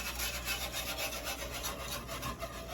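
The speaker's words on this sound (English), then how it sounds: "Just keep a whisking. It'll all come together." A whisk scrapes and swishes rhythmically through a thickening chicken à la king sauce in a pan, a close, steady scratchy stirring with repeated quick strokes and no voices.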